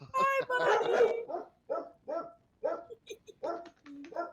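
Dog barking in a run of repeated sharp barks and yips with short gaps, close and fairly loud, mixed with a few whiny vocal notes.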